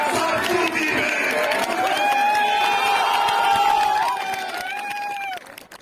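A crowd at a political speech cheering and whooping, loud and close, with sustained shouted voices and applause rising and holding before fading toward the end.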